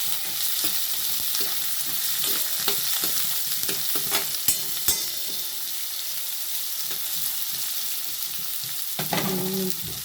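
Spiny gourd (kantola) hits hot oil with a spoonful of asafoetida over a low flame, setting off a steady, dense crackling sizzle close up, with occasional scrapes and clicks of stirring.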